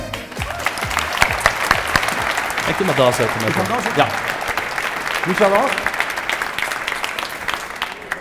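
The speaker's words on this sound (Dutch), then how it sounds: "Dus geef hem een applaus." Studio audience applauding Tom Dumoulin at a Friday-afternoon drinks show, a steady broadband wash of clapping running throughout, with people talking over it near the microphone.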